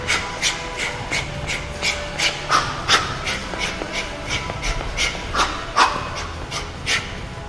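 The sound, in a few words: heavy breathing while throwing boxing punches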